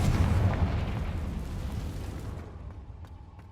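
Spell explosions from Bombarda and Confringo in Hogwarts Legacy on PS5: a loud, deep booming blast that rolls and fades over a few seconds, with faint crackles trailing off.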